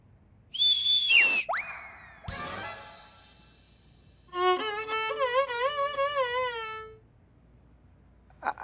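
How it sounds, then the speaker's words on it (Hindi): A person whistles in a series of bright, wavering notes: a sharp high whistle, a sliding tone, then a longer warbling run, each separated by short gaps in an otherwise quiet room. "आप सीटी मारी थी ना, तो हम ही सीटी मारे हैं आपके शुरू के लिए"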